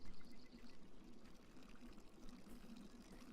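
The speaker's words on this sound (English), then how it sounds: "She can hear the water before she actually hits the bridge." Soft, continuous flowing water trickles in the game Beyond Eyes, a faint, steady burble with no voices.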